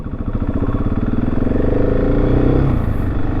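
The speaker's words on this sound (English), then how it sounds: "I'm riding a 2023 GasGas SM700" A 2023 GasGas SM700 motorcycle being ridden, its single-cylinder engine loud and close with a steady pulsing thrum that climbs in pitch as it accelerates and then eases off.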